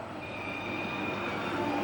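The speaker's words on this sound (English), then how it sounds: "There's the train moving now," A model train rumbles steadily along its track with a faint high whine, a continuous mechanical running sound with no voices.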